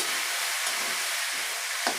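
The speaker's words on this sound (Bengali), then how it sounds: "লতিগুলো একটু নেড়ে দিলাম।" Taro stolons being stirred as they fry in a pan, a steady sizzle with soft scraping strokes at regular intervals.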